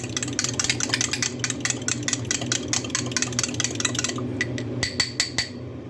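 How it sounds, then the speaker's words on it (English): Egg being whisked in a bowl for egg flower soup, a fast, even run of close utensil clicks against the bowl over a low steady hum, slowing to a few taps at the end. "Now we're going to whisk it around like this. So let's really whisk good"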